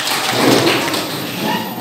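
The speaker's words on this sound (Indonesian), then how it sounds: "tepuk tangan untuk kita semuanya." A classroom of children clapping hands together in a lively cheer, steady clattering claps with thumping accents filling the space, loud and close.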